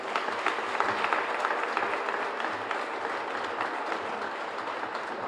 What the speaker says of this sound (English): Can we give Mayor DeStefano a round of applause?